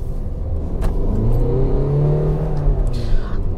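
A Tata Altroz with a 1.5 L diesel engine accelerating on the road, a steady broad engine rumble that rises slightly in pitch, heard from inside the cabin with no talking.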